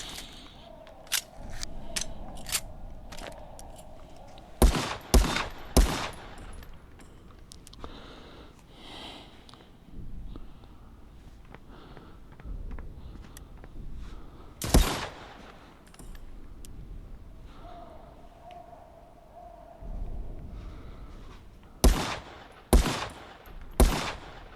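Gunfire in the VR shooter game Contractors: sharp, loud shots in short clustered bursts with quiet gaps between them, separated by softer movement and background noise.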